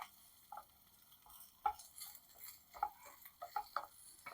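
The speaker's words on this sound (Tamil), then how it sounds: "இப்படி நல்லா கலக்கி விட்டுட்டே இருங்க." Spicy prawn pepper fry being stirred in a pan, with sparse spoon scrapes and metallic clinks over a faint low sizzle, quiet and close.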